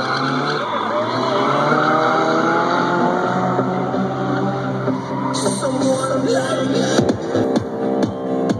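V8-powered yellow Nissan 240 drift car at a drifting competition, tires squealing and skidding with a roaring engine, steady and loud throughout, with a commentator talking over it.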